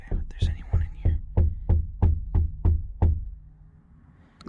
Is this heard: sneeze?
no